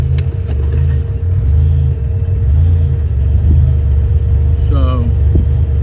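Buick Grand National idling and then shifted into drive and rolling off, a loud steady low engine rumble from inside the car throughout, with a brief voice-like sound partway through.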